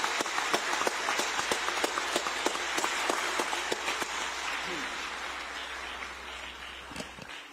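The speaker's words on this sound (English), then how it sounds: "Let's give them a round of applause again." An audience at the opening of the second UN-Habitat Assembly session in Gigiri applauds in a hall. Dense, steady clapping is heard close by and gradually thins and fades toward the end.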